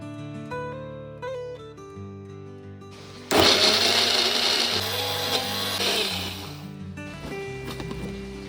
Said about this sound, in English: add everything to the blender along with a little water to make a smooth paste